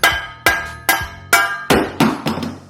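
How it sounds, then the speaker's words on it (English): A metal hammer strikes the bottom of an office or gaming chair's lift gas cylinder: seven sharp, ringing metallic blows spaced roughly half a second apart, loud and close, with no talking. "you take the metal hammer, you hit right on the bottom here"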